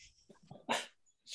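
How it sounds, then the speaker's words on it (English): A puppy barks and yips in short, sharp bursts, fairly close, with quiet sounds and faint murmuring in between, heard over a video call. "It's the first time we saw Jen's puppy on Zoom"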